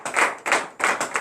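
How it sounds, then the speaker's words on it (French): Congregation applauding at a morning prayer service in Benin, three short bursts of clapping in quick succession, fairly close and full, with no talk over them. "Acclame"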